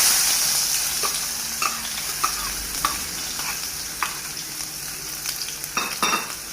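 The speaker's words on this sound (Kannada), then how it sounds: "ಇವತ್ತು ನಾನು ಸೂಸನ್ ಕಿಚನಾಗ ನಾನು ಬೆಂಡೆಕಾಯಿ ಫ್ರೈ ಮಾಡಕತ್ತೀನಿ ನೋಡ್ರಿ" Okra (ladies finger) fries in a pan under a steady sizzle, punctuated by repeated scraping and clinking as a spatula stirs it, with a few sharper knocks toward the end.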